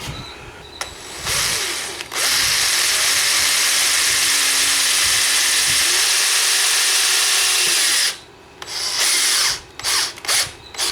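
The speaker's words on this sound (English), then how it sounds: "I'm gonna drill here." A power drill whirs at high speed in a long sustained burst, followed by several short, sharp trigger pulses, drilling into a Yamaha Raptor 700R ATV.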